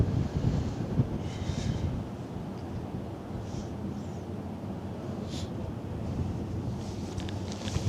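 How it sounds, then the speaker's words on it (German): Steady wind buffets and rumbles across the microphone at the Hamburg harbour visit of aircraft carrier HMS Queen Elizabeth, a low blustery roar that persists throughout with no voices. "ein bisschen windig ist es auch"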